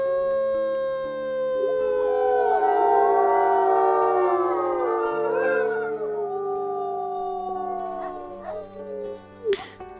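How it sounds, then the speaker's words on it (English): A wolf pack in a wolf-life video game howls together, several long rising and falling voices overlapping for about nine seconds, then fading into a few short yips near the end. "so we'll go ahead and howl."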